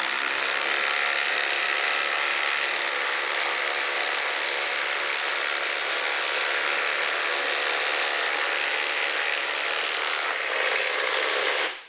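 FLEX and Milwaukee Gen 3 impact drivers driving fasteners, a continuous loud, dense whirring hammer that runs steadily for about eleven seconds before cutting off at the end.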